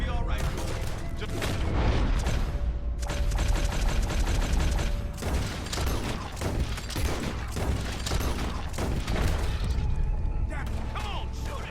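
Sustained gunfire rattles through the Red Dead video game scene, rapid shots overlapping in a dense, loud barrage with a heavy low rumble, while voices shout over it.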